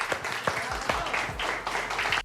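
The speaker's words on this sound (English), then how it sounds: "A round of applause, please." A small audience gives a round of applause, a brief burst of scattered, fairly close clapping that stays fairly even for its short length.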